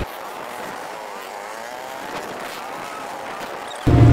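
A motorcycle weaving through traffic gives a steady, moderate engine drone with wind rush, running evenly throughout before a louder burst at the very end.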